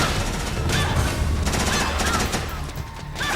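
Frog soldiers fire on the player in Metal Gear Solid 4, a dense, continuous spray of gunfire and impacts that fills the whole stretch.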